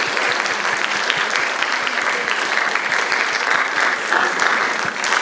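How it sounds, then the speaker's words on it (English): A school audience at a poetry slam claps steadily, dense close applause running unbroken for several seconds with no voices over it. "can I have one more round of applause, I suppose"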